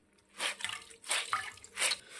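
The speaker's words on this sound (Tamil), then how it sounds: "நல்லா கலக்கிட்டு இந்த துணியை நல்லா இப்படி டிப் பண்ணி எடுத்து" Cloth dipped and swished in a bowl of warm salt water for wiping a fridge, giving three separate watery sloshing splashes, close and moderately loud, each with a short drip afterward.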